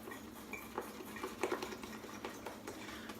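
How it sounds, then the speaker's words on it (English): A shaving brush whips lather vigorously in a bowl, giving a soft, quiet, wet swishing and light clinking patter with a brisk, uneven rhythm, close by and alone. "we use like a whipping motion to get the air into your lather and get it all creamy"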